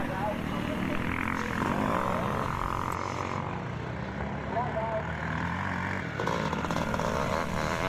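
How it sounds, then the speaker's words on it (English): A Honda four-stroke motocross bike racing at a classic motocross event at Drumlanrig Castle, Scotland, its engine droning loud and near, with a commentator's voice talking over it. "Another Honda 4-stroke going through there, number 412."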